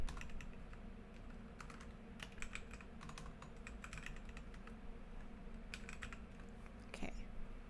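Quick, irregular clicks of a computer keyboard being typed on, close and quiet, over a low steady hum.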